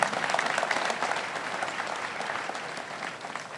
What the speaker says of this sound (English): Let us clap for Jesus Christ.